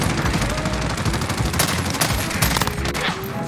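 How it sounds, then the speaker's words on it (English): An FR 5.56 burst rifle fires in Modern Warfare, quick clustered shots in rapid bursts over dense, loud game battle noise. "up close you're gonna win some of the gunfights just for the fact that it's a one burst"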